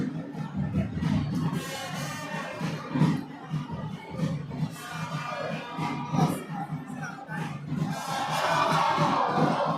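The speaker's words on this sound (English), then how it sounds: "And now you can hear the crowd" Basketball arena crowd at a Nigerian premier league game roars steadily and loudly throughout, with swelling cheers and shouts rising near the end.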